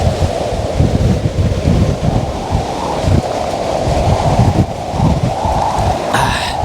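Strong wind buffets the microphone on the Madeira coast, a loud continuous roar with gusty low thumps, mixed with the wash of surf.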